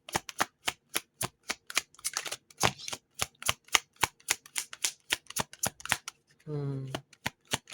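Rapid, rhythmic riffling of a deck of cards being shuffled, crisp snaps repeating close to the mic, ending with a short burst of voice.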